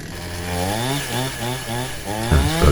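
Petrol chainsaw engine, newly fitted with a replacement ignition coil and carburetor just adjusted, revving up and down in close, loud waves of buzzing two-stroke whine before a rough burst at the end.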